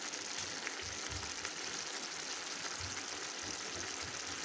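Food frying in a pan with bulgur and rice about to go in, a steady close sizzle with faint stirring knocks running evenly throughout.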